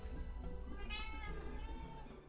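A cat in a fantasy video game meows once with a drawn-out, rising cry over a busy bed of background music and ambience, fairly faint in the mix.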